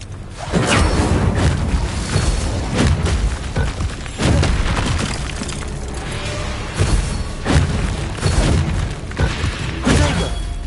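Fire spell cast in the PS5 game Hogwarts Legacy amid continuous loud combat: booming bursts, whooshes and crashing impacts recur throughout, dense and forceful with no pauses.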